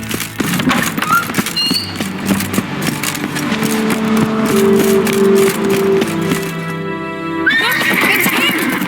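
In The Witcher 3: Wild Hunt, a horse whinnies loudly and close, with hooves clopping and some rattling gear in the background.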